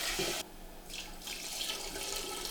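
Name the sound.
crab stock being poured and strained into a roux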